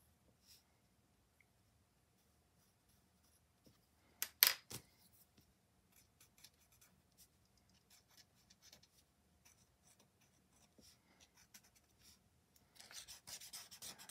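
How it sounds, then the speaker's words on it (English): Graphite is rubbed lightly onto paper for shading in a Zentangle drawing, giving faint, sparse scratchy strokes in near silence, with a short louder burst early on and a soft rubbing stretch at the end. "I'm going to go along here and put just a little graphite on this side."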